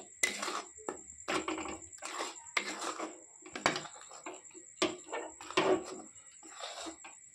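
Rice flour being stirred into a sugar and coconut mixture in a pan: repeated scraping and clattering strokes of a utensil at a steady, uneven rhythm, close up, over a faint steady tone.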